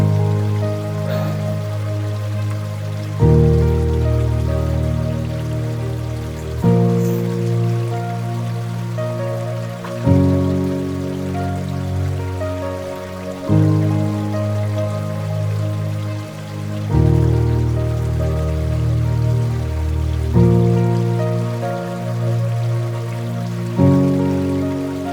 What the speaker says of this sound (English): you got the water drip seeping from everywhere above, you got waterfalls back here in the back